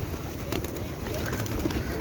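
Pigeons being fed lentils on a street in Naples, Italy, coo softly in low murmurs against a steady outdoor background hum, with faint speech nearby.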